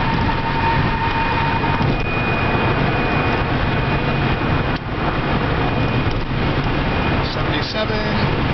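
An electric car with a newly rebuilt motor climbs a hill at about 76 mph, a steady roar of road and wind noise under a thin, constant motor whine, with a voice talking over it.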